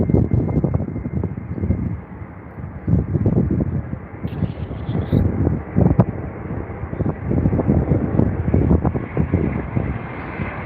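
A British Airways Boeing Dreamliner arrives on runway 09 left at Heathrow, a steady broad engine roar with wind buffeting the microphone throughout, heard from a distance.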